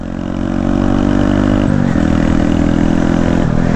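A Honda Grom motorcycle is ridden around Lake Louisville, its small engine droning loudly and steadily up close with a brief dip as the rider shifts, then holding its note again.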